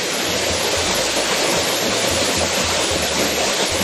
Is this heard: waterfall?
yes